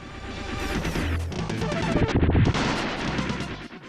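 Dense, loud bursts of space mine explosions and blasts in a video game pile up over a chaotic soundtrack, with sharp booms continuing throughout.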